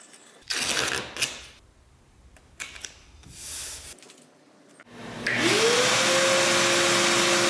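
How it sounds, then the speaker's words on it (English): A vacuum-powered downdraft box in a small van studio switches on, pulling dust through pegboard holes with a loud, steady roaring hiss and a rising motor whine that holds to the end, after some quieter handling sounds. "So I built a downdraft box. In theory, the dust is supposed to get sucked down through the pegboard holes"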